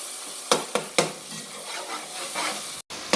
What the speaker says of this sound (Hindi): इसको मिक्स कर लेंगे और मसाले को अच्छा सा भूनेंगे।